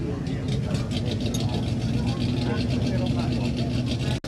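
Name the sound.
1916 Model T Ford Speedster engine running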